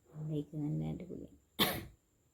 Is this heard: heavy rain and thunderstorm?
no